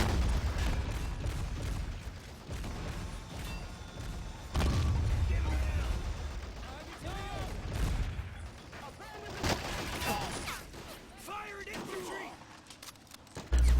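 Gunfire and booming impacts from a World War II battle in the game Men of War Assault Squad 2, including a sniper rifle shot, scattered sharp cracks and explosions mixed with clatter, with someone narrating over much of it.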